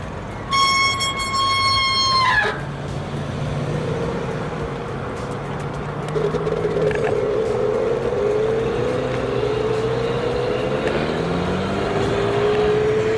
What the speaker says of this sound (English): it will run this motor theoretically at full throttle for a little bit over an hour